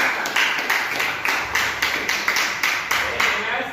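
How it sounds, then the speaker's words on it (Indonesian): A classroom gives applause after a group presentation, with a few distinct rhythmic claps standing out over a steady wash of clapping that runs the whole time. "Kita beri tepuk tangan untuk kelompok 1 ya."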